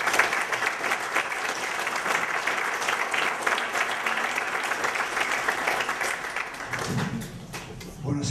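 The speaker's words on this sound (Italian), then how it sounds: "Gli diamo proprio un caloroso benvenuto con un bel applauso." An audience in a hall applauds to welcome a painter, dense sustained clapping across the whole stretch that thins out near the end, where a voice comes in.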